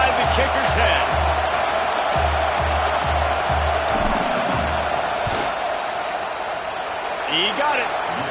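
A stadium crowd roars in an American football video game before a field goal attempt. The loud, steady roar carries rhythmic low thumps and a few sharp whistles and shouts, with commentary running over it.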